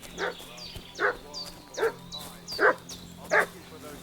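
A dog in the medieval Bohemian game Kingdom Come Deliverance II barks in short bursts, about five yelps spaced roughly evenly over a few seconds, moderately near over a steady low hum and faint ambient sounds.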